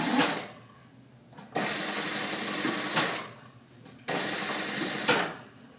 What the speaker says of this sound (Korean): 가름설 해서 미싱할 때 유의하셔서 박아주시면 됩니다.